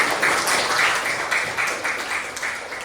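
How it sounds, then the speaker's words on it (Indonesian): Classroom of students clapping together after a correct answer in a lesson, a steady dense patter of many hands sustained at moderate loudness throughout with no talk over it. "tepuk tangan buat lagi"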